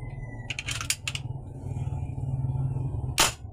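A homemade DIY air gun goes off in a few sharp, snappy cracks: a quick pair near the start, another shortly after, then one more burst near the end, over a steady low background hum.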